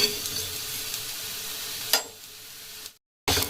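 Coriander, cumin, ajwain and fennel seeds dry roasting on a hot tawa give a steady, soft sizzling rustle with stirring, a brief scrape near two seconds, then a short silence before the sizzle returns.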